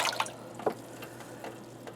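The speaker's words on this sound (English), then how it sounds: "I would rather put a tablespoon of bleach into a water barrel" A tablespoon of bleach poured into a water barrel makes faint, soft dripping and splashing, a few brief drops and trickles over two seconds.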